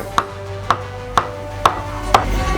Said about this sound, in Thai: ซอย ต้นหอม ซอย